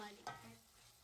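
Ginger garlic paste being stirred into cooked tomatoes in a pan for a tomato egg curry, a single scraping stir over a soft sizzle, close and brief.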